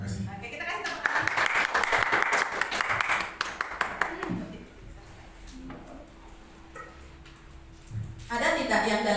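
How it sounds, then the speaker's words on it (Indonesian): A seated group at a teachers' training presentation bursts into brisk applause for about three seconds. The clapping then stops and a speaker's voice continues over quiet room sound. "kita kasih tepuk tangan"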